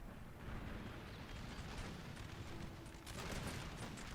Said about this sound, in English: Are they firing howitzer shots? It almost looked like it.